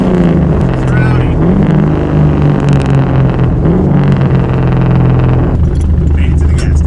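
LS V8-swapped Mazda Miata fitted with a new exhaust, a loud, rowdy, raspy engine drone heard from inside as it drives, rising and settling in pitch with throttle, with a voice speaking over it at times.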